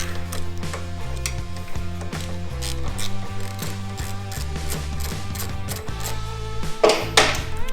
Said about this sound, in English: you're going to take your 10mm on your 3/8 ratchet, and you're going to take your caliper bolts out